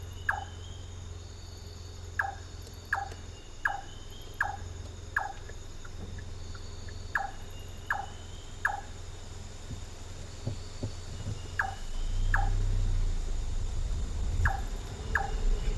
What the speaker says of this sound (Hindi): ये है रात के जंगल के साउंड